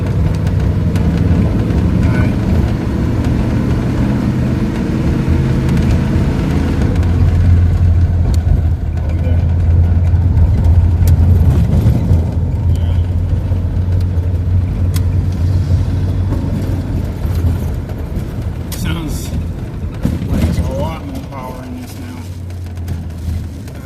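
A 1992 Dodge B250 van engine runs steadily on a road test drive, a loud, continuous low drone that rises and settles with some rattling and road noise.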